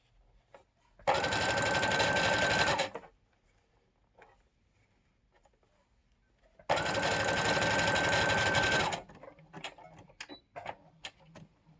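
A sewing machine stitches the neckline of a PPE surgical gown in two loud, steady bursts of about two seconds each, separated by quiet pauses and followed by faint fabric handling and small clicks.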